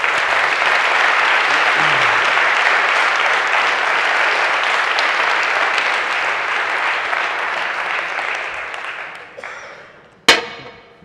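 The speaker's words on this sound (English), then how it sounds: "An applause for Wanda." A conference audience at a closing keynote gives sustained applause for Wanda, full and even for about ten seconds before dying away, followed by one sharp knock.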